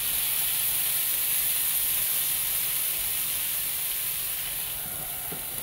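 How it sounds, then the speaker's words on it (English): Water hits a hot pan while seafood pasta cooks at home, giving a steady, loud steam hiss and sizzle that runs unbroken throughout, with faint clatter near the end. "It's adding a little bit of water in here to create some steam."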